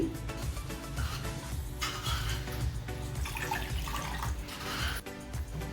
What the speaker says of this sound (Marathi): आता आपण चहा बनवण्यासाठी गॅसवरती पातेलं ठेवले दोन कप पाणी टाकूया उकळण्यासाठी